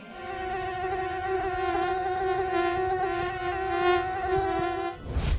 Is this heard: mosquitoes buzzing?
yes